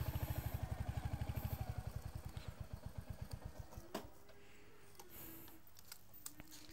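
A motorcycle engine thumps in a fast, even rhythm near Srirangapatna, fading over about four seconds into quiet broken by a few clicks.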